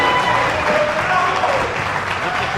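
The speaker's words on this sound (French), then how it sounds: "Le public qui applaudit." Crowd applause at the 2025 PPF petanque grand final, a loud, dense and even round of clapping filling the whole clip, with faint voices underneath.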